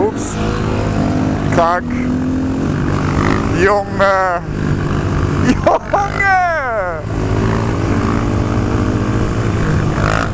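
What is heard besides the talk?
motorcycle engine revving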